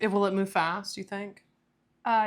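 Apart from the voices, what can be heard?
No everyday noises stand out.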